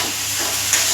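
Shrimp and masala fry in a pan, a loud, close, steady sizzling hiss that fills the moment without a break.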